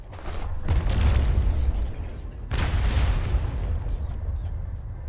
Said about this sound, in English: This isn't any normal cannon fire.